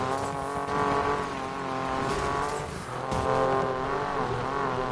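Race cars roar through a race in the video game Need for Speed Payback, a loud, steady engine whine with shifting pitch and faint tire noise, heard continuously without talk.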